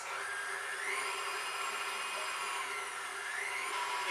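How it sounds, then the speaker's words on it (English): Egg whites for a banana meringue pie are whisked in a bowl, giving a continuous, fairly quiet rapid scraping and swishing that runs steadily throughout with no speech. "We whisk."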